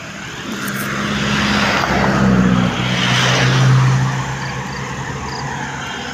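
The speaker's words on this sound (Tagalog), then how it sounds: "Dami na rin nadaang sasakyan." Vehicles rush past fast on a road, a loud, swelling roar that peaks close by and then fades, with another pass following, and no talking.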